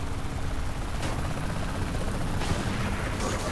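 Helicopter in the Saints Row: The Third video game, a dense continuous rotor chop and engine roar mixed with bursts of game gunfire, loud and close.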